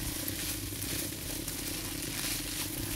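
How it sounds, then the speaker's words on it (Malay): Fried rice with mackerel is stirred in a pan, a soft continuous sizzle and faint scraping, steady and quiet throughout, with no voices. "Teruslah dikacau-kacau lagi."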